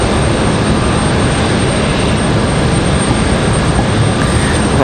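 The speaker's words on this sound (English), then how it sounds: "So this is Delta 1518. 737-900 getting ready to come in from Atlanta." Delta Boeing 737-900 jet arriving from Atlanta at Raleigh-Durham airport, a loud steady broadband engine roar filling the air without letup.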